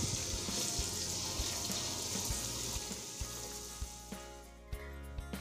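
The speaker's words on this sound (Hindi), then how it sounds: "प्याज को हम फ्राई करते हैं।" Onions frying in a pan for a seekh kabab pulao give a steady, dense sizzle with occasional soft pops and crackles. The sound is close and fairly quiet, with no one talking.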